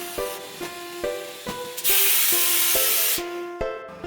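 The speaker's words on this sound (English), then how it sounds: "Compress it with a compressor." A compressor squeezes a hand-folded carpet at a carpet factory, letting out a sustained loud spray-like hiss of air, with a series of rhythmic hollow knocks or clicks repeating about every half second before and after the hiss.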